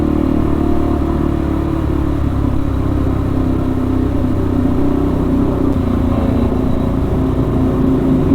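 A 2022 KTM RC 390 motorcycle with its catalytic converter deleted idles and rumbles loudly and continuously at close range, a steady low exhaust burble with no clear revs standing out.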